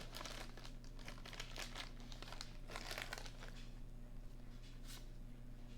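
Packaging crinkles and crumples continuously up close as a basketball card mail package is torn open, with soft tearing noises mixed in and no talking.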